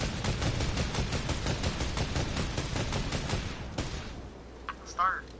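Rapid bursts of automatic gunfire from a video game fill the first four seconds, dense and loud, then thin out as a voice speaks briefly near the end.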